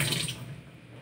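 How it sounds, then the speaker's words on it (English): Water from a sink tap runs in a steady rushing stream, strongest at the start and then easing to a softer flow, with no voices. "sink with running water"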